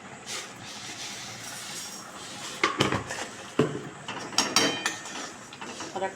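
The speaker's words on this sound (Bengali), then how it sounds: "আর একটু নাড়াচাড়া করে ফুটিয়ে নেব।" Raw papaya payesh with sugar being stirred in a pot, the spoon scraping and knocking against the metal in scattered, rough bursts that grow more frequent toward the end, up close with no speech.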